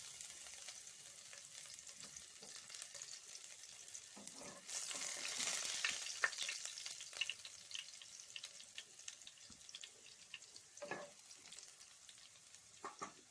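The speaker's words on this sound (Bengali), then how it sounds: "তেল গরম হয়ে গেছে, তাই এর মধ্যে দিয়ে দেব রসুন কুচি" Chopped garlic drops into hot oil in a wok for chilli chicken, bursting into a bright sizzle partway through that keeps crackling at a fairly low level with occasional stirring clinks.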